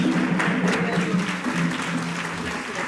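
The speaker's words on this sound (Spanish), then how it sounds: "Y un aplauso a todo el aniversario de la parroquia" A church congregation claps warmly at a parish anniversary, a steady crowd applause with a few voices and murmurs beneath it, moderately close.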